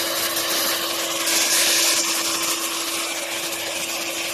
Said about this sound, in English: would like to try to hear the sound of Iteracare